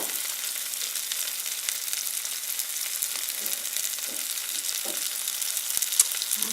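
Breaded jalapeno poppers fry in very hot oil with a steady, dense sizzle and crackle, close and continuous, with no talking.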